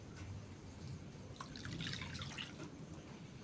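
Liquid pours steadily into a container while mixing homemade pine disinfectant, a soft continuous trickling that swells slightly in the middle, close and fairly quiet.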